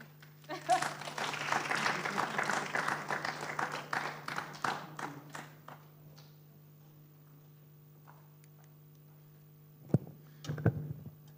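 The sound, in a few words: audience applause after a conference talk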